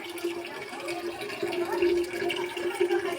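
Thin trickle of water from a broken village tap pipe in a rural ward, a steady faint running flow with a low hum, lasting a few seconds.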